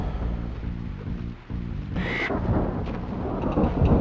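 A thunderstorm rumbles in the Crash Bandicoot PS1 game, with a deep rolling roar of thunder and rain hiss, then a sharp crack of lightning cutting through midway.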